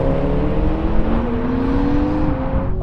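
Toyota Supras, an older one with a 2JZ engine and four-speed gearbox against one with an eight-speed, accelerate hard in a rolling race, engine tones climbing steadily close by before dropping away at a shift.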